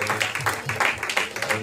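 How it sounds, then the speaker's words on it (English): A church congregation at a youth service clapping their hands together in a steady rhythm, many hands close by, with voices faintly underneath. "Let's clap our hands to God."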